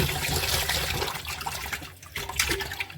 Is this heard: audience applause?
no